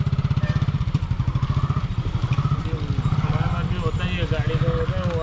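Motorcycle engine running steadily while riding along a road, a loud continuous throbbing rumble up close under wind noise, with people talking over it.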